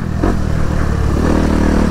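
A Honda CRF 250RX dirt bike roars loudly and steadily as it is ridden, its engine revving with a rough, continuous drone close to the microphone.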